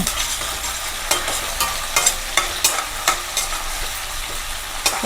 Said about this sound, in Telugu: ఆనియన్ బాగా ఏగనిద్దామండి